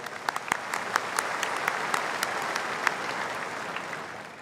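Sustained applause from an audience at a university graduation ceremony, a dense even patter of many hands clapping throughout.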